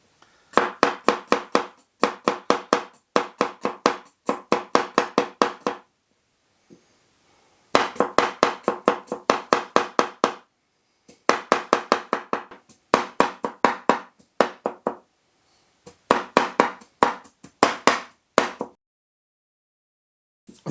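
A knife finely chops six large garlic cloves on a board: rapid bursts of close, crisp taps in quick rhythmic runs, separated by short pauses, with no talking.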